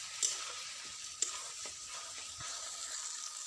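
Spices frying in a pan as the base for a fish head chorchori: a soft, steady sizzling hiss with a few light spatula clicks and taps, fairly quiet and close, no voices.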